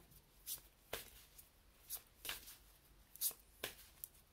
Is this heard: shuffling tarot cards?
yes